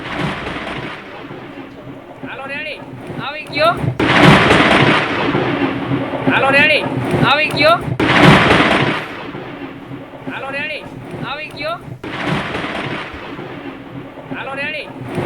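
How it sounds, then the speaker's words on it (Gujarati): Deep thunder rumbles and sharp cracks from lightning during heavy monsoon rain, several loud bursts roughly every four seconds, with chirping bird or insect calls and faint voices between the booms. "વીજળી પડવાની આકસ્મિક ઘટનાને સ્થાનિકોએ કેમેરામાં કેદ કરી"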